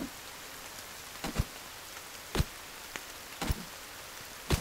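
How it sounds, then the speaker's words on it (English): Steady rain falls in the survival game The Forest, a soft even hiss with a few sharper drip-like ticks and taps scattered across it, fairly quiet and with no talk. "Rain is fine."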